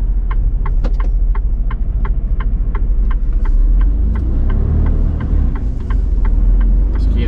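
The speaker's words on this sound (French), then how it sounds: "Régénération d'AD Blue, mon camion, c'est pour ça que vous entendez des fois comme ça." A truck engine runs at a close, steady idle during AdBlue regeneration, with a regular ticking pulse repeating roughly every quarter second over the low rumble.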